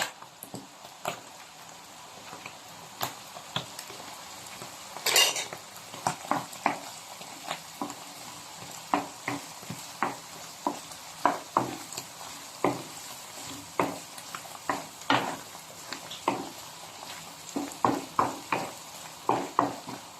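Beef salpicao cooks in butter in a pan under a steady close sizzle, while a utensil stirs and taps against the pan in frequent sharp clinks for the whole stretch.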